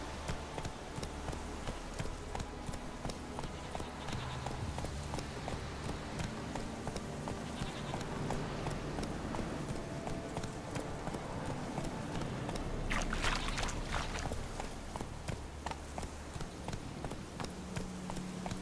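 Roach the horse galloping in The Witcher 3, hooves drumming in a steady rhythm over a long stretch beneath ambient game sound, with a brief louder swell in the middle.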